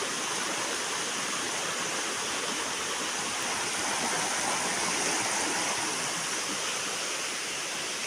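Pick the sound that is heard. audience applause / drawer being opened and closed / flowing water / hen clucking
flowing water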